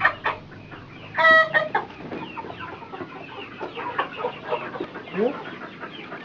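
Chickens cluck nearby on a farm where poultry is being sorted for harvest, with a rooster's sharp call standing out among the busy, overlapping clucks and some background noise.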